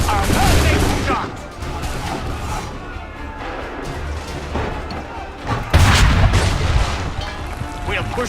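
Musket volleys crack and boom in a battle from the video game Assassin's Creed III, with dense overlapping gunfire and explosions, a loud burst near the end, and a voice talking over the combat.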